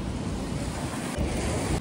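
Dangerous ocean surf at Uluwatu, Bali, roars broadly with buffeting wind noise on the microphone, a wave surging a little louder near the end.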